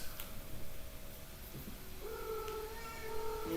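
A cat meows in a drawn-out, wavering call near the end, rising out of a faint background hum.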